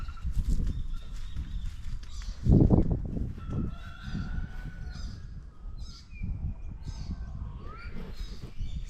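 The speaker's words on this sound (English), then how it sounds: "we have the chickens and the roosters waking us up every day" Chickens clucking and a rooster crowing outdoors in the countryside with cows in the background, mixed with low farmyard rumbles and a brief louder burst partway through.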